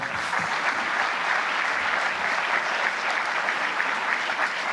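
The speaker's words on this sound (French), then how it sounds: "Vous pouvez les applaudir, bien sûr." Sustained applause from an audience at the Crisalide Eco-activités awards ceremony greets the nominees, a dense, even wash of many hands clapping at steady loudness throughout.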